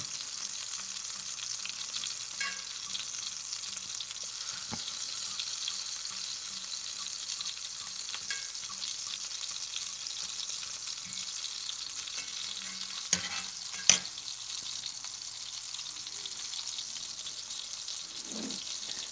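Onions fry beside hamburger steak in a cast iron skillet with a constant, even hiss. A few faint clicks and taps from the turning utensil break through near the end.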